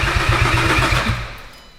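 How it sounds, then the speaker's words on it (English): A Golf R engine fitted in a van cranks over with a rapid, rhythmic low chug of the starter turning it, loud and close, running for over a second before trailing off into quiet. "so now it's cranking"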